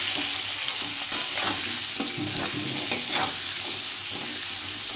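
Cauliflower with salt and turmeric is stirred in a frying pan, with scraping spatula strokes over a steady, close oil sizzle and no talking.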